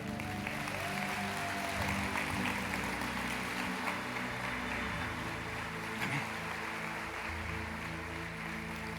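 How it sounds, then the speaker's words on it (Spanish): A church congregation claps together in a steady, dense wash of applause that holds at an even level throughout, with no voices standing out above it. "Aplauda la palabra del Señor"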